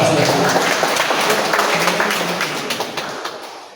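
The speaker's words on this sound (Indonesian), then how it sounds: "Boleh dong kasih tepuk tangan Pastor." Applause from a parish assembly audience for the priest, a dense, sustained wash of clapping at close range that gradually tapers off.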